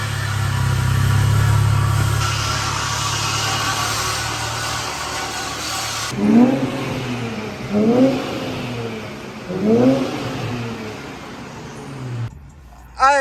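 An Infiniti Q50S with its muffler deleted idles with a steady, loud exhaust drone, then gives three separate throttle blips that rise into a raspy roar and fall back, heard close up.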